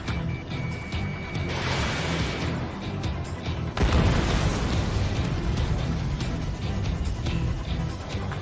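A rocket blast in the Ace Combat 7 jet combat video game bursts into a sustained, rumbling roar with a second surge partway through, loud and dense under layered game effects.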